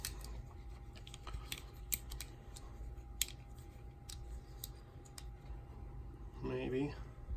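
Scissors on a Leatherman Free P2 multitool snipping and clicking up close, a rapid series of light metallic clicks, followed by a brief voice at the end.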